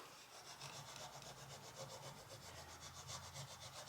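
A wooden kitchen utensil is scraped with rapid, steady back-and-forth rasping strokes to clean up a rub-on transfer, close and continuous but faint, with no talking.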